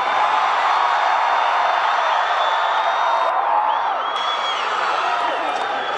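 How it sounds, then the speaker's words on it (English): Concert crowd at a show at Uproar Fest in San Diego cheers loudly and continuously, with whoops, whistles and scattered clapping in one sustained roar. "They cheer louder for that than anyone."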